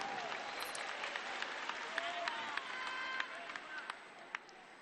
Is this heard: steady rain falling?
no